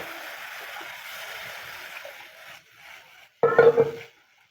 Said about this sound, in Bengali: মশলাটা কিন্তু ভালোভাবে কষিয়ে নিয়েছি এবার আমি দিয়ে দিচ্ছি পরিমাণ মতন জল